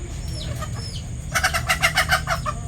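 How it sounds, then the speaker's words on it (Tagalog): Chickens clucking in a flurry of repeated calls, fairly close, over a low steady background rumble; a few faint bird chirps come before the clucking starts. "nagugulo po yung mga manok"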